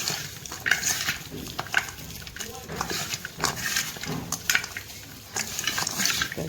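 Garlic cloves are rubbed together by hand to loosen their papery skins, giving soft, irregular rustling and scraping bursts close by, while a person talks quietly over the work.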